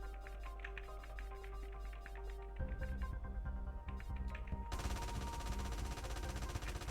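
Gunfire in the video game GTA San Andreas, rapid repeated shots in bursts over continuous game noise that grows denser and louder partway through, with no voices.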